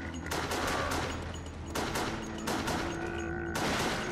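Repeated gunshots in the survival-horror game Resident Evil The Darkside Chronicles, a run of sharp, loud cracks spaced irregularly over steady game background noise, with no talking.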